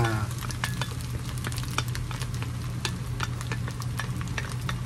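Shrimp frying in a pan, a steady close sizzle with a low hum beneath and rapid scraping clicks of stirring throughout.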